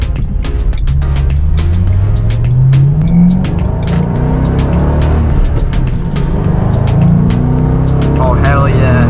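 A car with a 3V engine accelerates hard on its first run after a new shifter install. The engine roars loud and close, with pitch rising through the gears in a continuous, sustained pull.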